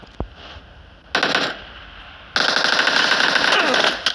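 Video game gunfire in two loud automatic bursts, a short one followed by a longer sustained rattle of rapid shots, with a sharp single crack near the start.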